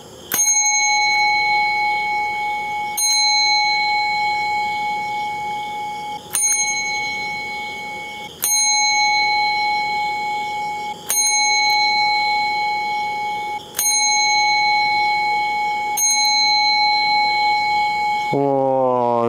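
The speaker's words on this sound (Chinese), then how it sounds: "现在即将来敲钟召唤那个女鬼魂的出现" A bell is struck seven times at slow, even intervals during a nighttime ghost-summoning ritual at a bridge. Each clear, ringing strike decays before the next, and no other sound competes.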